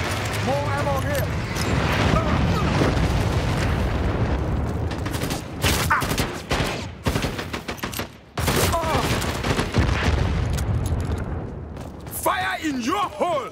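In the online shooter Dirty Bomb, grenade explosions and rapid gunfire pound loudly and almost without pause, with dense bursts of shots and booming blasts while shouting voices break in throughout.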